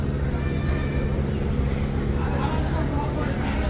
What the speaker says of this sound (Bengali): লঞ্চটি কিন্তু ক্রমশ এই টার্মিনালের দিকে এগিয়ে আসছে দেখতে পাচ্ছেন